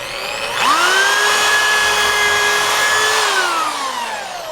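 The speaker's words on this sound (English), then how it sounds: "squeeze quickly to make the drill drive all the way through" Power drill boring a hole through a wooden board for a trebuchet frame, a loud close whine that ramps up in pitch, holds steady for a few seconds, then winds down.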